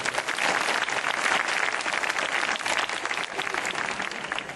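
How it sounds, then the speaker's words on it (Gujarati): An audience at a devotional gathering applauds children from a gurukul, a dense, steady wash of clapping hands that holds loud and even for the whole stretch, with no talk over it. "આવા બાળકોને વધાવવા માટે વાલા ભક્તો તમારી તાળી જોઈએ"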